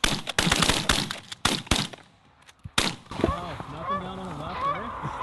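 Several close shotgun blasts in quick succession during a goose and duck hunt, followed by geese honking nearby, with people talking.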